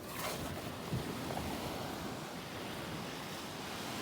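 Sea waves wash onto a fishing beach in a soft, continuous surf hiss with some wind buffeting the microphone, fairly faint and with no voices.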